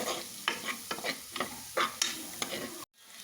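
A spoon scrapes and stirs rhythmically through dried red chillies, onions and curry leaves frying for cassava upma, with a soft oily sizzle under about half a dozen regular strokes before it stops abruptly.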